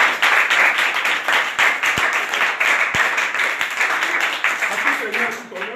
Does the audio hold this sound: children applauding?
yes